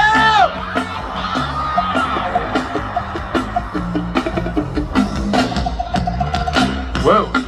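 A concert crowd at a show at Inkcarceration 2024 yells on cue, a loud mass of whoops and shouts mixed with amplified stage sound and spoken voice, rising in bursts near the start and end.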